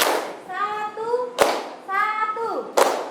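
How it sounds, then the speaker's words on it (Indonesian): Students in a classroom chant together, then each chant ends in one sharp, loud unison hand clap, twice in all, close and crisp. "Yo, tepuk satu."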